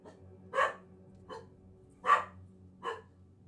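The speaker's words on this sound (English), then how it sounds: "I like the fact that you guys could hear my dogs now when I'm saying that" A dog gives four sharp barks spaced irregularly, some way off and moderately loud, over a quiet room hum.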